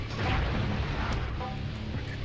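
A low rumbling blast from a generator exploding in the PS1 Spider-Man game, a muffled boom followed by a dull, fading roar at moderate loudness.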